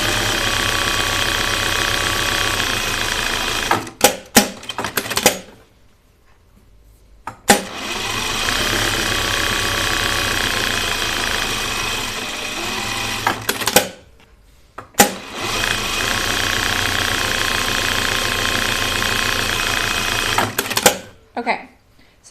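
A sewing machine edge-stitches a fabric strap for an oven mitt project in three long loud bursts of fast whirring, separated by short pauses with brief handling clicks.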